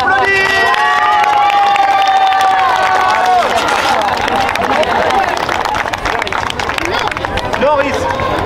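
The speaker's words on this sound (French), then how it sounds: "Ouais, on peut l'applaudir." At a Halloween show in the Babyland Amiland amusement park, a voice first rings out over the crowd, then a loud, sustained burst of audience cheering and clapping swells and carries on.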